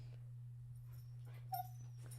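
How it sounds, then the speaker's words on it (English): A husky dog gives a brief soft whimper near the end of a quiet moment indoors, a single faint whine over a steady electrical hum. "Let's just say that huskies are very vocal dogs."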